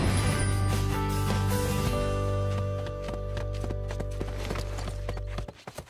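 Horse hooves clop in a steady trotting rhythm, close and distinct over a sustained musical backdrop that cuts out near the end.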